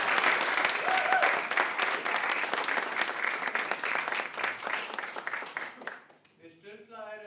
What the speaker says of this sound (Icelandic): Viljið þið klappa fyrir þeim?